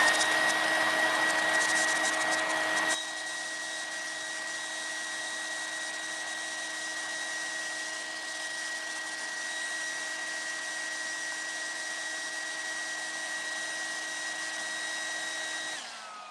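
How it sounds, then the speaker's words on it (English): Hair dryer blowing on wet artwork paint, a steady, loud whirring drone with a bright whine that drops slightly in pitch after a few seconds, then runs on evenly until it cuts off at the end. "I'm going to blow dry this so I can move on to the next kind of stage."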